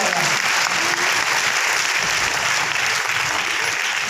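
Loud, sustained applause from an audience at a product presentation for new DXN health and grocery products, a dense steady clapping that fills the whole stretch with no voices over it.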